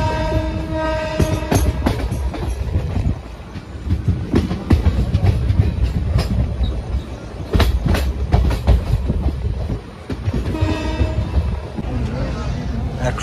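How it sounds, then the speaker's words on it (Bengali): The Sahid Express rolls along the rails after leaving a station, a loud, continuous rumble with rhythmic clickety-clack of wheels over joints, heard from inside the moving train. "আমাদের ট্রেন ঘুষকরা স্টেশন দিয়ে ছেড়ে দিল"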